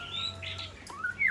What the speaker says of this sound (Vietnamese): Một em mi mái